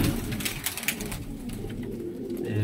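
Pigeons from a dera flock in Faisalabad coo in a close, continuous low murmur, with a few sharper flutters early on and a steady hum underneath.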